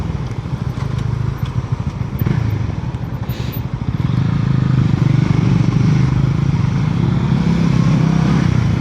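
Motorcycle engine running while riding through Penang city, a steady close drone with rough low rumble that swells louder and fuller about halfway through and holds there.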